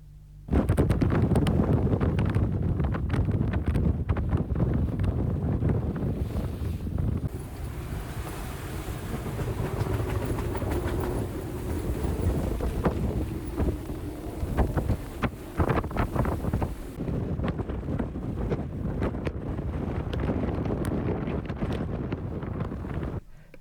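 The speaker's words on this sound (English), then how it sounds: "the strong gusts that would come down between the mountains, and that it would be much windier than forecast" Strong mountain wind gusts of up to 36 knots hit a sailboat in the Faroe Islands, a loud, continuous roar and buffeting across the microphone that rises and falls throughout, with no talking.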